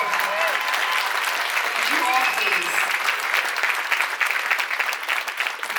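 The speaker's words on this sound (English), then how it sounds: "Giant round of applause." Concert audience at a show in a theatre gives sustained, dense applause with cheers and whoops, loud and steady throughout, with a brief spoken line near the start.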